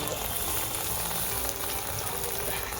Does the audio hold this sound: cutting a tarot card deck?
no